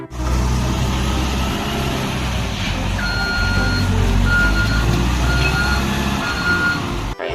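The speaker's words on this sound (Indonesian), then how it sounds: "Yang berikutnya di sini sebuah mobil bulldozer." Reversing beeps from a toy bulldozer, steady intermittent electronic tones over a continuous loud engine-like drone with no talk throughout.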